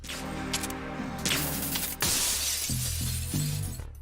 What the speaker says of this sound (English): Snake can break the main glass window.